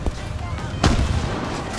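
A single booming tank cannon shot in War Thunder, with a sharp report followed by a rumbling tail, set against low game background noise.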